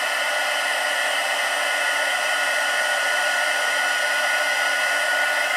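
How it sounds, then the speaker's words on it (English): A heat gun blows steadily while heat embossing paper leaves, a loud, constant whooshing hiss with a high whine that holds unchanged throughout. "So just heat embossing these leaves"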